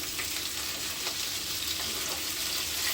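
Grated ginger sizzles in a hot pan while avarekalu chitranna, a field-bean rice dish, is being cooked: a close, steady, hissing fry with faint crackles and no talking.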